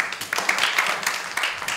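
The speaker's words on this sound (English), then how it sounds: "Can we again clap for her?" Applause in a classroom as pupils clap for a student, a quick, dense patter of many small hands kept up steadily at moderate loudness throughout.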